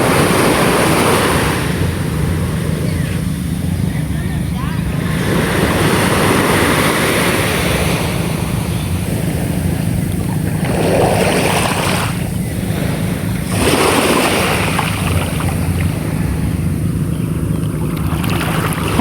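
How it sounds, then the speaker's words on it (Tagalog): Calm sea waves wash gently at the shore, a soft continuous hiss of surf with faint swells, mixed with light wind buffeting the microphone and no voices. "Ayan, tahimik yung ating dagat."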